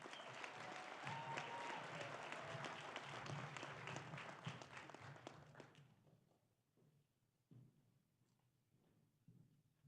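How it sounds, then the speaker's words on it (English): A graduation ceremony audience claps for a speaker, a dense, sustained round of applause that fades out around the sixth second, leaving a quiet room with a few scattered thumps and small sounds. "Please give a round of applause for Miss Samantha Gant."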